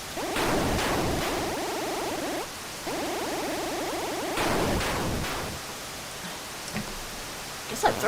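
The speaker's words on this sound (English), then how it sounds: "Yes, it's raining." Rain falling in the Rocky Horror Show video game as a broad steady hiss, mixed with warbling tonal game sounds that start and stop before the rain fades quieter.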